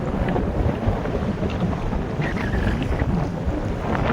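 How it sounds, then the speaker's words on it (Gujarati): Strong wind buffets a fishing boat at sea amid big waves, a steady broadband roar and rumble with gusting noise across the microphone, continuous and loud throughout, no voices. "પવન નીકળી આવ્યો છે"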